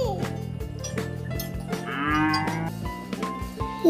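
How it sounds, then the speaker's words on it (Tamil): A bull lows in a few long, loud, resonant moos with a deep rolling tone, heard clearly and close up with no talk over it. "காளை மாடு."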